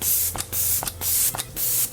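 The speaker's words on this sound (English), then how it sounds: "now I'm gonna go in with my Luminous Setting Spray by Morphe" Morphe Luminous Setting Spray hisses out in four quick, close, loud bursts with brief pauses between them.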